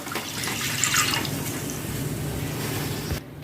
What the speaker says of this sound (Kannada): ಈಗ ನೀರು ಹಾಕಿಕೊಳ್ಬೇಕು